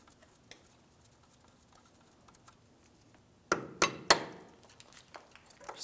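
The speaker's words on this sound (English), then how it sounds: "We just tapped it out of place using a small hammer" A small hammer taps a steel brake hose bracket loose on a 2007-2014 GMC Sierra 2500 HD: three quick, close metallic knocks in a cluster after a stretch of faint shop background.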